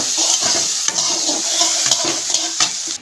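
Food sizzling and frying in a pot on a gas stove while a spoon stirs it, with repeated scraping strokes over a steady bright hiss, close and loud, no talk.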